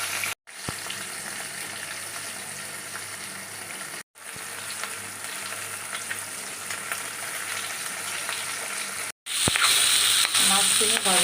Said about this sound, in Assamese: এয়া সৰিয়হ ফুটাই পেলাই বইল কৰি লোৱা আলু ভাজি আছোঁ